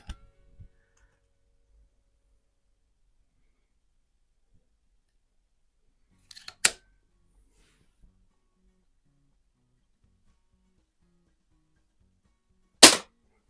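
A resealed Hy Score 819 air pistol, a Diana 10 type, fires two sharp cracks several seconds apart amid near silence, with faint handling clicks before them.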